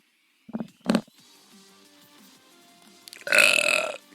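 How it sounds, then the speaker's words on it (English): Two short throaty bursts, then a louder, drawn-out burp lasting about a second, close and alone with no talking. "That was a burp."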